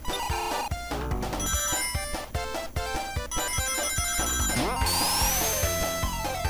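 A mobile phone notification rings over loud, busy Sonic the Hedgehog 2 game music, with bright repeated electronic tones mixing into the dense soundtrack throughout.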